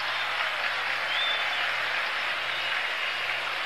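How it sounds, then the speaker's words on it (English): Baseball crowd at a Pirates vs Cardinals game applauding pitcher Bob Gibson after an out in the eighth inning, a steady, distant wash of clapping that holds evenly throughout with no voices over it. "they're applauding Gibson on every out now"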